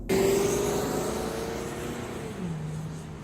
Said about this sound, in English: you can also see the car idling right there, and if I step on the gas a little, it'll go ahead and go up